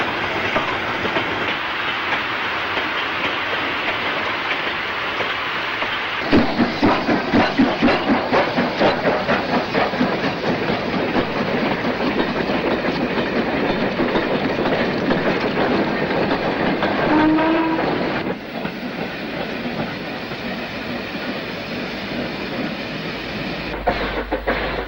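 A 1960s steam locomotive passes at Shrewsbury station, with loud, steady rolling rumble and rhythmic clickety-clack of wagons over the junction, close by and continuous, with no speech.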